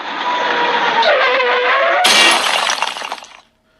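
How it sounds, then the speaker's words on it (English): The Batmobile smashing through the wall of a drug house: a loud, sustained roar of engine noise, then a sharp crash at about two seconds with breaking debris and shattering glass that tails off into silence. "the Batmobile comes crashing through the wall of that drug"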